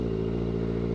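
A motorcycle engine idles steadily nearby at a beach entrance, a constant low rumbling drone with no revving.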